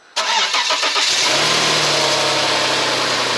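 An Audi engine cranks briefly, then catches and roars up, settling into a loud, steady idle close by.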